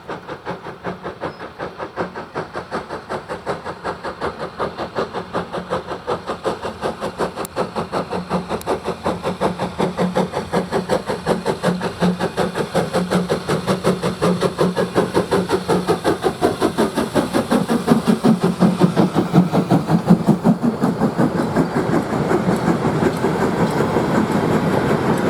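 Preserved steam locomotive 52044 on the Keighley and Worth Valley Railway, climbing away from Oakworth with a pickup goods train; a rapid, steady rhythmic chuffing with rolling wagons, growing louder as it nears, then holding steady.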